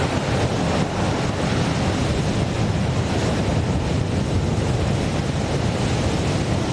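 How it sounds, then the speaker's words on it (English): A loud, steady roar of rushing, spraying water that never lets up: a rocket launch pad water deluge system test at NASA's Launch Complex 39B, gushing a column about 100 feet tall. "The test created a pillar of water about 100 feet tall"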